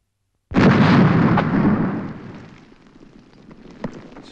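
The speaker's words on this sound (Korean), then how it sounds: "저기 홍무지에 전쟁식이 놈들이 사용한 시한폭탄과 똑같은 폭발물을 묻었습니다" A buried explosive like a time bomb detonates in a wasteland test, a single sudden heavy blast with a long rumbling decay that fades over several seconds, with a faint sharp crack late in the tail.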